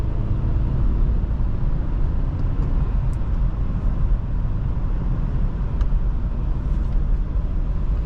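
Steady low rumble of road and engine noise inside a moving 2021 Audi S6 Premium Plus 2.9T in auto mode, continuous and even throughout, with no talking.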